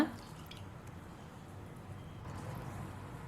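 Basmati rice being rinsed in water for white kushka, with soft wet swishing, squishing and dripping at close range, steady and low throughout with no talk.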